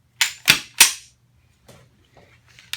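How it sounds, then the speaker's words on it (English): Metal parts of a Browning Silver Hunter 12-gauge shotgun clack together as the barrel is fitted back on: three sharp, close clicks in quick succession, then a few fainter taps. "And put our barrel back in the gun."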